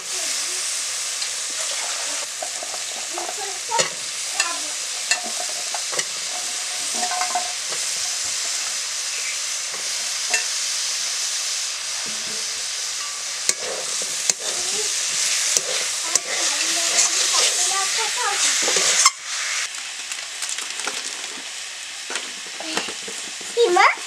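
Potatoes and drumstick stems frying in a pan with cumin and coriander, a continuous sizzle with repeated spatula scrapes and clicks throughout, close by with no voices over it.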